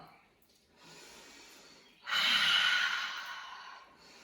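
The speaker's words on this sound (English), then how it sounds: "We're gonna inhale up and exhale, make ha breath on the exhale." A breath drawn in during standing yoga, then a loud open-mouthed "ha" exhale that rushes out, peaks and slowly fades. The breath is close and breathy with no speech.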